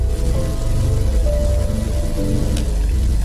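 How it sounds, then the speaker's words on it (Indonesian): Steady rain falling, a dense close hiss of drops with low rumbling underneath, continuous and fairly loud, with a brief sharp spatter near the end and no voices. "Hujan turun mengiringi langkahnya"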